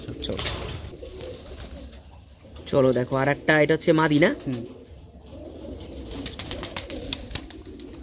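Madras pigeons coo in a short run of rolling, throaty calls mid-clip, close by, with people talking before and after them.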